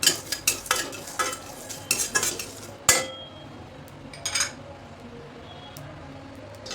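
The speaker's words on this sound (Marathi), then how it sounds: "आपले आता हे 25 ग्रॅम बडीशेप आहे ती भाजून घ्यायची." Fennel seeds and green cardamom dry-roast in a pan, with quick rattling stirs and scraping clinks of a spoon against metal, a sharp knock, then quieter sporadic stirring over a soft background.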